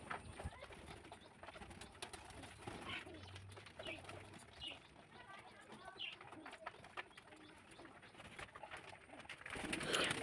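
Pigeons and their young being fed at a farm, soft scattered cooing and bird calls over a quiet, rustling background.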